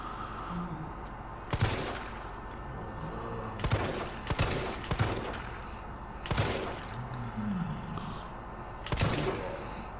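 Gunshots in the Resident Evil 3 video game, about seven sharp loud cracks spaced irregularly over a low rumbling game backdrop, with faint speech in places.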